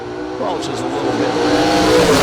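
A Camaro race car accelerates hard down a drag strip, a loud rising engine roar with a brief tire squeal, building steadily over a couple of seconds.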